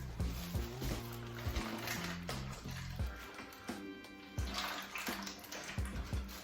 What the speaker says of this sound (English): I'm gonna go ahead and pour that back in here on top of this butt